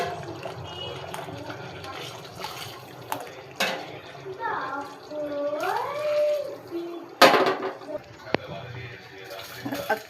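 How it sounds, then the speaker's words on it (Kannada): Water poured into a pot of chicken biryani base during home cooking, a soft splashing fill heard with kitchen clatter and brief knocks around it. "ಇವಾಗ ನೀರು ಹಾಕ್ಕೊಳ್ಳಿ. ನೀರು ನಿಮ್ಗೆ ಎಷ್ಟು ಬೇಕೋ ಅಷ್ಟು."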